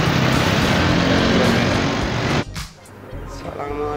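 Busy street traffic near open banks: a dense, loud roar of passing vehicles and engine rumble filling the first two and a half seconds, then dropping to a lower, uneven hum with fainter noise.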